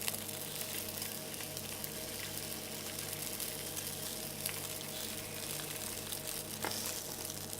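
Fish cooking on a grill gives off a steady, soft crackle and sizzle, a continuous hiss with faint pops that runs evenly throughout with no voices.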